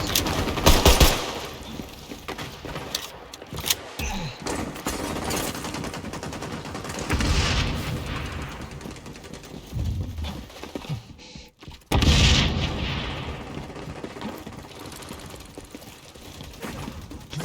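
Rapid bursts of video game gunfire, including pistol fire, crackling loud and close in long dense volleys that come and go, with short gaps between bursts and no talk.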